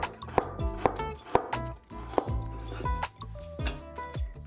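A knife slices a carrot into thin 1/8 inch pieces on a cutting board, giving about a dozen crisp, closely spaced chops in an uneven rhythm over soft background music.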